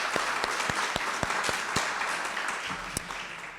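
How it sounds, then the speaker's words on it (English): An audience at a lecture on the Lincoln assassination applauds after the talk, a dense steady round of clapping with a few sharper individual claps standing out, fading slightly toward the end. "I want to give another round of applause to Dr."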